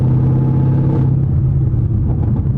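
A straight-piped 800hp Audi RS7 pulls under a decent amount of throttle on pure snow, its deep, loud exhaust drone holding steady and close throughout without any talk.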